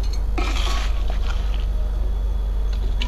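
Spicy drumstick pickle spooned into a container in a home kitchen, a cluster of close metallic clinks and scrapes early on, then softer sporadic taps over a steady low hum.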